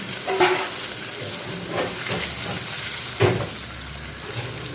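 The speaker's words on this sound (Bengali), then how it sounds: "একটু নেড়ে চেড়ে নিচ্ছি। নেড়ে চেড়ে একটু লাল ভাব আসলে তখনই আমি এই পনিরগুলোকে তুলে নিচ্ছি।" Paneer cubes frying in a kadai and being stirred, a close, continuous sizzle broken by a few sharp scrapes and knocks of the spatula against the pan.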